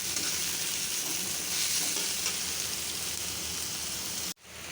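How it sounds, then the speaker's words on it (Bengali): Egg masala for duck egg curry fries in a pan with a loud, steady sizzle that holds throughout, then cuts off abruptly near the end before faintly resuming. "ডিমের মশলাটা ভালো করে ভুনতে হয়"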